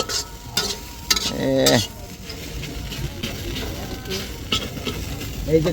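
Fish fries in a pan over an outdoor fire with little or no oil, a crackling sizzle broken by bursts of stirring and scraping, with some voices nearby.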